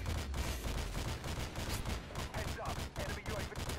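Dense, continuous gunfire in Modern Warfare 2 multiplayer, overlapping bursts and rapid shots filling the whole stretch at steady loudness, with a voice faintly mixed in.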